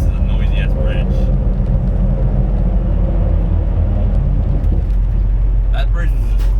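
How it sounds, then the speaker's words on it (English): Loud, continuous low rumble and growl of a truck rolling across a noisy bridge, heavy road noise filling the whole stretch with brief higher rattles near the start and end. "Wow, this is a noisy ass bridge."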